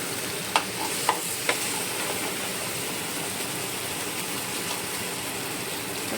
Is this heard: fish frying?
yes